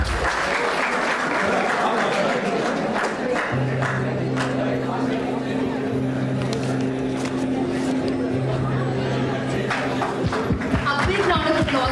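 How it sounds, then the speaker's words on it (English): An audience at an academic event applauds after the ceremonial lamp lighting, sustained dense clapping from a crowd. A steady low hum runs beneath it partway through and the clapping grows ragged toward the end. "A big round of applause, everyone."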